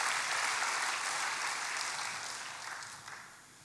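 A church congregation applauds for God during a sermon, a dense sustained clapping that stays steady, then thins and fades toward the end with no voices over it.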